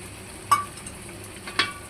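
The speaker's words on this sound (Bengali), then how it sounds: "এই মশলাতে আমি কিছুটা গরম জল অ্যাড করব" Hot water splashed into spiced masala frying in a pan for a vegetarian pointed gourd curry, giving two short, sharp sizzling hisses about a second apart over a quiet background.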